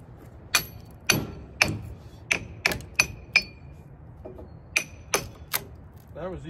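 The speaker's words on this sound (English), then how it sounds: "I'm going to try and trim up a little more of this black locust now." Black locust wood being trimmed with sharp, ringing strikes, about a dozen evenly spaced knocks close by, each with a brief metallic ring, and quiet gaps between them.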